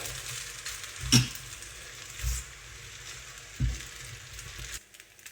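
Double cream is stirred into beef pasta in a hot pan, giving a soft steady sizzle broken by a few scraping clatters of the spoon against the pan, with no talking.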